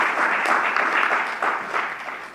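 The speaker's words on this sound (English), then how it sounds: "I think that calls for a round of applause." Audience applause at a conference session, a burst of many hands clapping with a slightly uneven rhythm, strong at first and fading toward the end of the two seconds.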